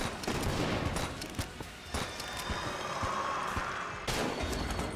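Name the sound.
flare gun shots in video game Enter the Gungeon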